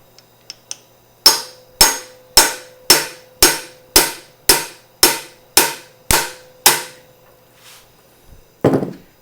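A hammer taps an axle seal into a Dana 30 axle housing, a few light ticks followed by about ten loud, evenly spaced metallic strikes, then a short scraping noise at the end.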